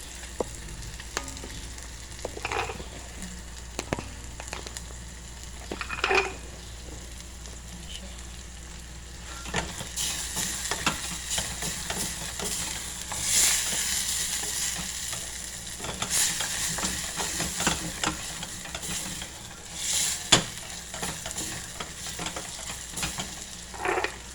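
Leeks sizzling and being stirred in a pan, a steady close frying hiss with intermittent scraping stir strokes that grow louder and busier partway through, no talking.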